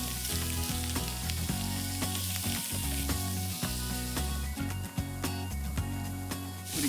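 Food sizzles in butter in a pan, a steady, fairly quiet crackle and spit that runs throughout with no talking.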